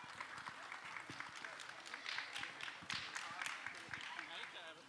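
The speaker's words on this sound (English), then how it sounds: "A huge round of applause." Audience applauding the chief guest at an event at Podar International School, a steady wash of clapping over several seconds with some crowd murmur.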